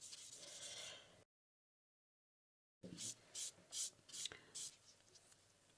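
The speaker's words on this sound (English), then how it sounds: "So let's keep buffing, because even if we hit the gel polish, it's marbled, isn't it?" Gel nail polish is buffed with a nail buffer in a series of short, soft, close rubbing strokes, a few rasps, then a silent gap, then five or six rhythmic swipes.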